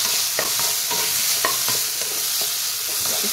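Mashed amla (Indian gooseberry) being stirred in a hot pan on a gas stove, with a steady sizzle and repeated scraping clicks of the spoon, close up with no talking.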